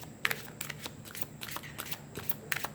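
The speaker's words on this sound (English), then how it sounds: "Let's pull a card for your emotional space." Tarot cards being shuffled and drawn: a quick series of crisp, close riffling flicks and soft slides at an uneven rhythm, fairly quiet and heard alone.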